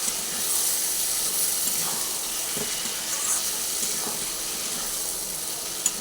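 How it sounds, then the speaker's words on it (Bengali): Cashews and capsicum cook in a pan, giving a steady hiss of sizzling with faint soft scrapes from stirring and no voices. "আমি এর মধ্যে কাজুটা দিয়ে দিলাম কাজুটা দিয়ে দিয়েছি এরপর আমি ভালোভাবে নাড়াচাড়া করে দিচ্ছি"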